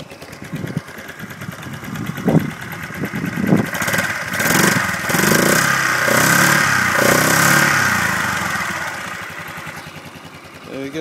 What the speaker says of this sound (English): Engine starts up.